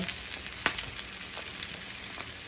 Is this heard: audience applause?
no